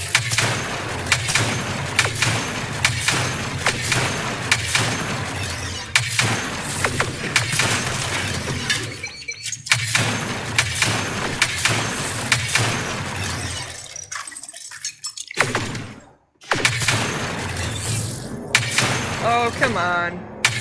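Gunfire and shattering impacts in the sci-fi shooter Mass Effect Andromeda, loud and dense bursts with thuds and breaking glass throughout, a person talking over much of it, with brief drop-outs near the end.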